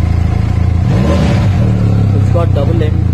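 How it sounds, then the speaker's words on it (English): Benelli Leoncino 500 motorcycle with twin end-pipe exhaust, revving loudly and close, its engine note rising and falling over a steady rumble. "It's got double end pipes out here. The sound is similar to your 300 or 502."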